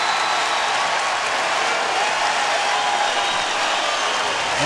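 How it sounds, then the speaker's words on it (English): A wrestling match crowd applauds and cheers in a dense, steady roar of clapping that fills the arena without a break. "Look how responsive this crowd is here, just for that extra, taking away that bonus point."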